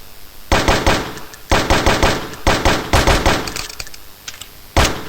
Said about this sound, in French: tirer tout le temps avec un flingue, c'est chiant au bout d'un moment